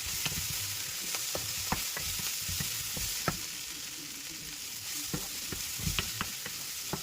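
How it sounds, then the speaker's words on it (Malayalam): Chili powder sizzles and fries steadily in a pan while a utensil stirs it, with repeated sharp scraping clicks against the pan; no talking. "കുറച്ച് മുളക് പൊടി ഇളക്കി കൊടുക്കാം."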